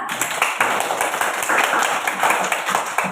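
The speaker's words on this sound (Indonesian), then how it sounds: "Kasih aplaus untuk kelompok 2." A classroom group gives steady, enthusiastic applause, many hands clapping close together at a brisk rhythm for a few seconds, with a few voices faintly mixed in.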